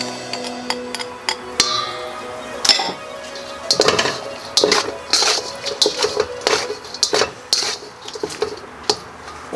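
Pasta being tossed in a pan with roasted broccoli, a run of irregular metallic clinks and scrapes of utensil against pan, close and crisp, in separate bursts with short pauses, no talk.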